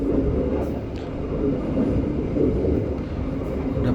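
The Sancaka Utara business-class passenger train runs on its rails, a steady loud low rumble and rolling drone heard from inside a carriage, with no distinct clacks.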